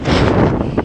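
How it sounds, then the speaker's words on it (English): A cold, roughly 20-degree outdoor wind gusts loudly across the microphone in a brief, rumbling, roaring buffet lasting under a second. "It's windy"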